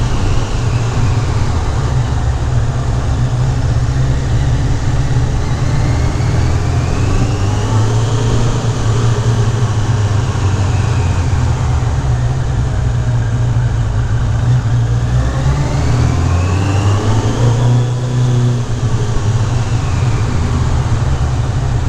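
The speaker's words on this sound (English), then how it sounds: "I do love the sound of my motorcycle inside this parking garage." A motorcycle exhaust rumbles loudly and continuously inside a parking garage, its deep drone echoing off the walls as the engine note slowly rises and falls.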